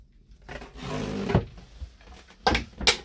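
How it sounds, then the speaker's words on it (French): Kitchen drawers on runners sliding open and shut in a Mc Louis Yearling 61 motorhome, a longer rubbing glide followed by two or three sharp knocks as they close, close by and with no talk. "Du rangement sur coulisses. Tiroir. Encore tiroir."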